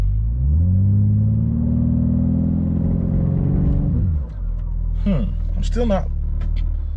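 A 2021 BMW G80 M3 Competition holds revs in launch control, its engine droning steadily near and loud, then the pitch drops as someone speaks briefly over the idle.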